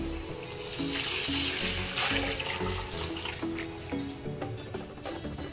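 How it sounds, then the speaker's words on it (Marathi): Tamarind water is poured into a pan of hot oil in a home kitchen, making a continuous splashing, trickling flow that lasts a few seconds. "आपण यामध्ये आता पाणी टाकूया जे आपण मगाशी चिंचचं पाणी करून घेतलं होतं ते कोळ टाकायचं आहे"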